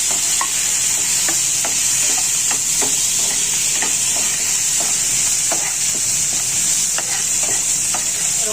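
Thuthuvalai leaves sautéing in a pan for a thuvaiyal, with a constant bright sizzle close by and scattered light spatula taps and scrapes through it, no talking.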